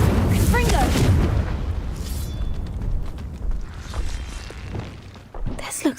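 Spell effects from the Hogwarts Legacy video game, a series of booming blasts, whooshes and mechanical creaks with a bright chime, loud at first then trailing off, while a voice calls out over them.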